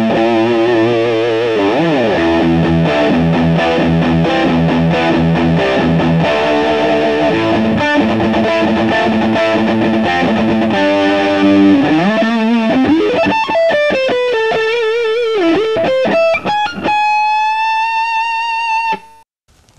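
Gibson Les Paul 58 reissue electric guitar played through heavy overdrive, thick distorted chords and riffs ringing loud and steady, ending in sustained bent single notes that fade out.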